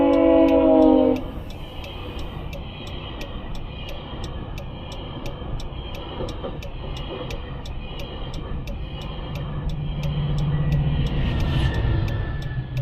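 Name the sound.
commuter train passing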